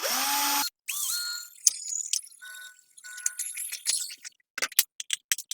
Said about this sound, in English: Use the drill, punch a hole, shake out the plastic.